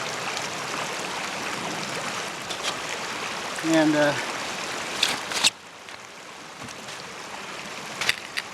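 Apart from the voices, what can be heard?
icy stream flowing while wading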